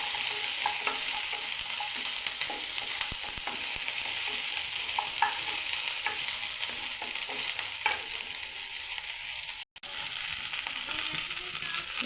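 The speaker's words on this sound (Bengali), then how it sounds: "তেলটা গরম হলে এর মধ্যে প্রথমে দিয়ে দিব আমি পেঁয়াজ কুচি এবং রসুন কুচিগুলো।" Chopped onion and garlic fry in hot oil, a constant hissing sizzle with scattered clicks of stirring and a brief pause near the end, close and steady with no speech.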